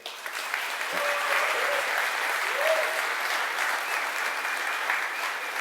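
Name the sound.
conference audience applause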